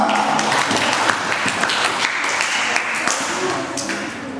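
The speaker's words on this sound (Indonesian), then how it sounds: "Tepuk tangan untuk berdua" Applause for two contestants at an elementary school quiz competition held at a Buddhist temple, a steady wash of clapping that lasts the whole stretch with voices mixed in.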